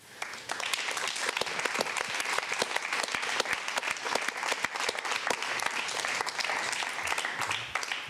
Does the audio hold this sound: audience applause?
yes